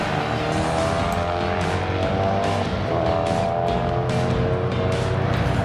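Racing sidecars roar around a circuit at Croix-en-Ternois, with engines screaming in a dense, continuous, loud wash and tyres hissing as the machines pass close by.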